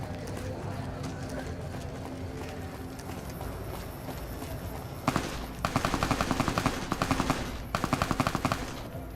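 Rapid automatic gunfire in a video game, bursts of quick repeated shots in the second half over a steady background of game sound, loud and close.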